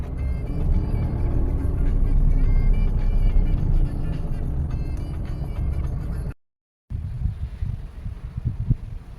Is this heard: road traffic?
yes